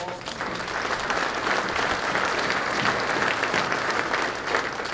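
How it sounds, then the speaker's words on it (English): A live audience at a land investment expo breaks into sustained, dense applause, a steady wash of many hands clapping that holds at an even, fairly loud level throughout without a break. "Can we give a round of applause?"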